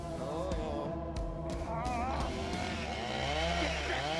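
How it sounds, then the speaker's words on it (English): A chainsaw roars in a horror TV drama scene, a loud continuous snarling buzz with shifting pitch as it revs, layered with other scene sounds throughout. "He's got a chainsaw."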